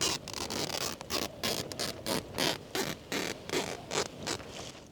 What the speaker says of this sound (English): tell me what you think of the sound of this zip, because to me it doesn't sound like a zip, it sounds like material tearing